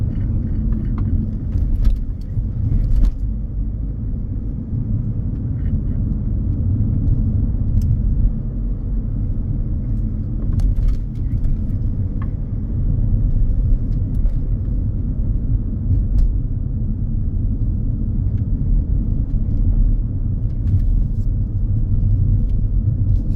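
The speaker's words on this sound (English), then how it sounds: "Your car will nicely go over the hump" A car in motion on a road, passing over a speed hump, heard from inside as a steady loud engine and road rumble with scattered light rattles and clicks and no sharp jolt standing out.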